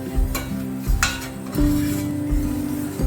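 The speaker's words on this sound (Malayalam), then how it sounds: "അതിനകത്തേക്ക് ഒരു ടേബിൾ സ്പൂൺ മൈദ ചേർക്കാം. നല്ലോണം ഇളക്കി കൊടുക്കുക." Garlic sizzles in a pan as a tablespoon of maida flour is stirred in for an Italian pasta sauce; a spoon scrapes the pan a few times over a steady low hum, with no talk.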